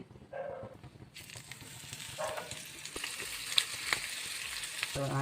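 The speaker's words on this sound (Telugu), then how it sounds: "ఇప్పుడు మనం ఆయిల్లో ఫ్రై చేసుకుందాం." Wheat-flour-coated Isuka Donthulu fish pieces fry in oil. A bright sizzle rises sharply after a quieter start and holds steady, with a few small pops and crackles.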